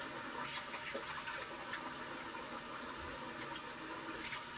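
Tap water runs steadily and fairly loud as a man rinses off mid-shave at a bathroom sink, a continuous rushing gush with no talking over it.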